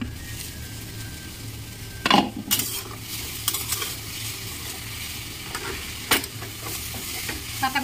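Cabbage and potato fry in a pan, a steady sizzle under a few sharp scraping strokes of a spoon stirring against the metal, with no talk.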